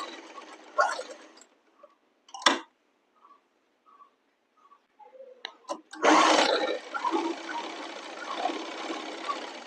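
Sewing machine stitching a ladies' pant, with short bursts and taps of the mechanism between quiet gaps, then a longer run of steady stitching toward the end.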